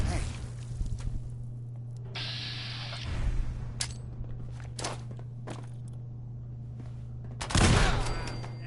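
Gunfire hits a gunner in a modded Fallout 4 game, with scattered shots and clicks over a steady low hum and one loud burst of fire near the end.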